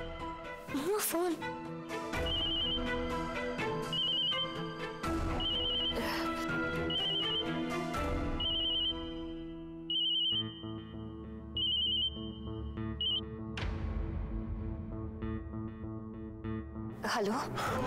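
A phone ringtone trills again and again in short electronic bursts, mixed with music and ambient sound throughout.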